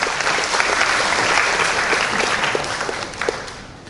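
A lecture audience breaks into applause, a brisk burst of many hands clapping that stays steady before thinning and tapering off near the end, with no voices.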